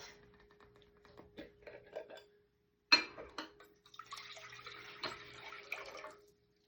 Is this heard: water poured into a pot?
yes